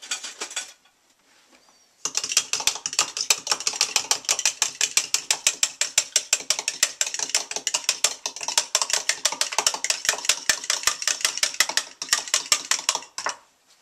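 A fork whisks breakfast ingredients seasoned with salt and garlic powder in rapid, rhythmic clicking bursts that start after a short pause and keep a brisk, steady beat, loud and close with no talking.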